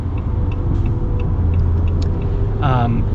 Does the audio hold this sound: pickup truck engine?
yes